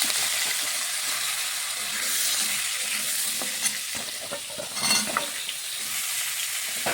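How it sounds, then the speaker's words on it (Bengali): Vegetables go into a hot pan of frying cumin and radhuni, giving a steady loud sizzle and hiss with scraping stirs and a few clinks of the utensil against the pan. "জিরে আর একটু রাঁধুনি পুরনটা ভালো করে ভেজে নিচ্ছি আর এখানে সবজিগুলি এই যে ধুয়ে রেখেছি সবজিগুলি দিয়ে দিচ্ছি"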